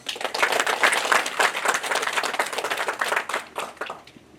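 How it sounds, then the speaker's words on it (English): A round of applause at the launch of the Yes Outreach, brisk clapping from a gathered audience that swells, holds steady, then thins out and fades near the end. "Ladies and gentlemen, a big round of applause,"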